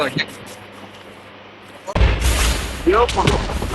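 A loud Minecraft explosion booms abruptly midway, rising from near silence into a dense blast with crackling debris, during a multiplayer fight against the Wither.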